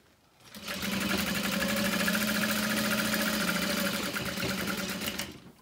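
A sewing machine stitches along the edge of a leather handbag at a 4.5 stitch length. Its rapid, even needle hum rises, holds steady and close for about five seconds, then stops.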